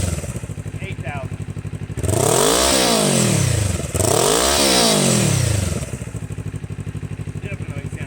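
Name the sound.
motorcycle engine revving with 62 dollar slip-on exhaust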